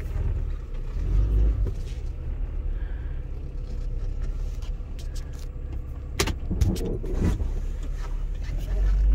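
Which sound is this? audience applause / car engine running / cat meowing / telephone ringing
car engine running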